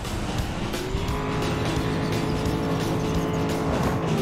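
Race cars roar through a Disney Cars 3 video game race, a sustained loud engine drone with tire squeal and rising pitch as cars speed along, with no talking.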